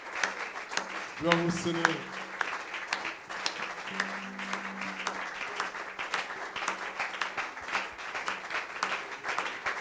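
A church congregation applauds Jesus Christ, the steady crackle of many hands clapping filling the room throughout, while a voice speaks briefly and some sung or held vocal tones rise over the clapping early on.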